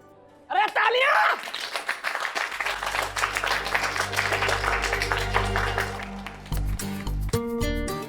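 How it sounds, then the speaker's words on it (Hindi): Applause and clapping ring out loud after a brief quiet, continuing over a bed of music as a spoken remark cuts in near the start and more talk follows at the end. "अरे तालियां!"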